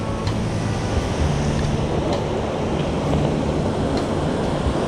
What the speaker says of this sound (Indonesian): Ombaknya gede. Biasanya jam segini ombaknya nggak segede gini.